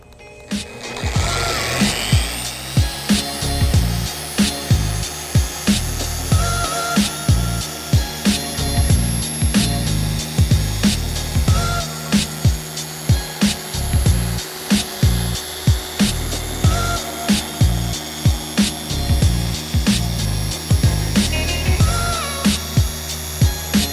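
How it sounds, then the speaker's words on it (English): A machine polisher runs at its highest speed on black Ford Edge paint, working polish in to remove scratches and swirls. The whir holds steady and close for the whole stretch, rising and dipping in a regular rhythm as the pad sweeps back and forth. "on the highest speed setting, we're going to do our polishing where we're actually removing the scratches and swirls"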